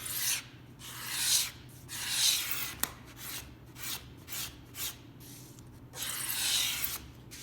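A hand scraper works across a rosewood guitar back near a mahogany inlay, making rhythmic rasping strokes, about ten in a row with short pauses between, close and clear with one sharp tick midway.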